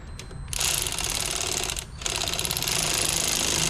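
Tightening a bolt during a crank-no-start repair on a Honda CR-V, likely with a pneumatic impact or ratchet tool, making a loud continuous mechanical rattling hammering that runs nearly the whole time with a brief dip midway.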